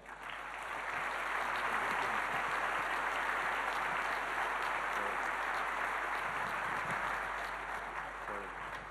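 An audience at the Palais am Funkturm applauds to welcome Dr. Rath, sustained dense clapping across the whole stretch that eases slightly at the end.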